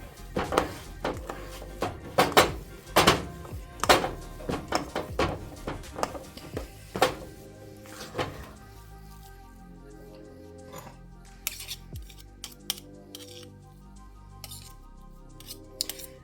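Sticky Greek yogurt and almond flour bagel dough being mixed in a bowl, with a run of sharp utensil knocks and scrapes that start busy and thin out to sparse taps, close and fairly quiet.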